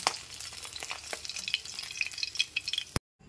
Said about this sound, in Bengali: মাছের মাথাগুলো একটু সময় নিয়ে উল্টে পাল্টে খুব ভালো করে ভেজে নিয়েছি।